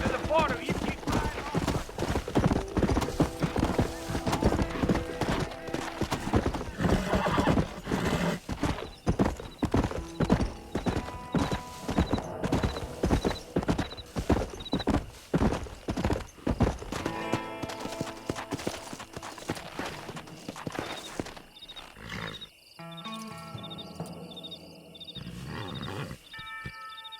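Horse hooves clip-clop steadily while riding across open ground in the Western game Red Dead Redemption, loud and close, with a horse whinnying, music swelling and a voice speaking over the gallop before it thins out at the end.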